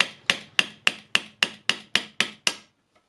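A new ball bearing being hammered onto an angle grinder armature held in a vise: nine sharp, evenly spaced metallic strikes, each ringing briefly before the next, close and alone.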